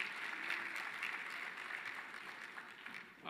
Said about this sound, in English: Let's give them another big hand of applause